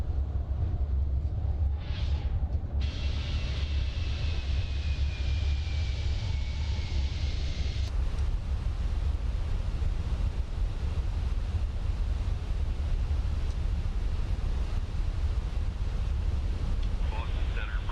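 Steady broadband roar inside the cabin of an Air Transat airliner in flight, a constant low rumble of engine and airflow noise that continues evenly throughout with no talking.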